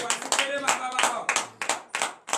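A congregation at a Saturday morning prayer service in Benin claps in a brisk, loud rhythm with voices acclaiming over it, the claps close and overlapping.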